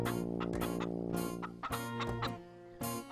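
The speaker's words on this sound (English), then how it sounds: "The chickens in the yard had familiar feathers, reminiscent clucks." Yard chickens clucking nearby, several short throaty clucks and calls in an irregular rhythm, fairly clear with a soft steady background hum.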